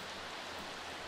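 Rain falls in The Sims 3 as a soft, steady hiss, faint and even throughout, with no voices over it.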